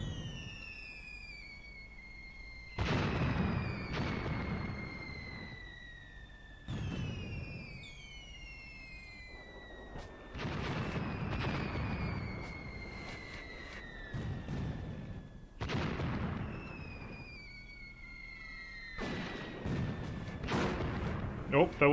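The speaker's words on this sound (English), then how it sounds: "there was a hit from the infantry guns, I think" Infantry guns firing and hitting in the tank battle game Graviteam Tactics: several deep booming blasts spaced a few seconds apart, each trailing off, with whistling shell sounds above and soft talk in between.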